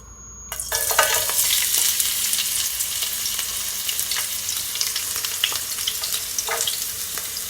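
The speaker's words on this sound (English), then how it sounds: "I'm just gonna allow it to saute just for a couple seconds" Garlic, onion, spring onion and scotch bonnet pepper sautéing in a couple of spoonfuls of hot oil, a sharp sizzle bursting in after a short quiet moment and then holding steady, with occasional stirring clicks.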